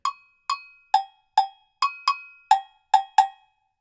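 Agogô bell playing an Ijexá rhythm, alternating low and high metallic strokes in a lilting pattern: nine sharp, ringing hits, some spaced and some in close pairs, close and clear with no other sound.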